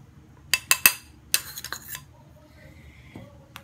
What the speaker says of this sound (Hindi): यहाँ लेंगे हम एक खाली बाउल, इसमें हम डालेंगे 2 टेबल स्पून व्हीट फ्लावर